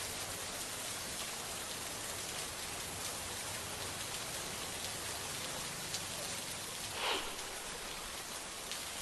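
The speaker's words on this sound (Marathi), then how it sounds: "रत्नागिरी जिल्ह्याच्या लांजा तालुक्यात जोरदार पाऊस सुरू आहे" Heavy rain pours steadily in Lanja taluka of Ratnagiri district, a dense, even hiss of falling water at moderate level with no letup.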